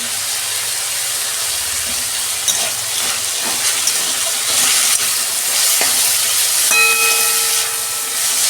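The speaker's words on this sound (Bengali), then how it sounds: "2 মিনিট আমি ভেজে নেব।" Sizzling and hissing of food frying in a pan after salt and turmeric go in, a steady bright crackle throughout with faint stirring clinks, no voices.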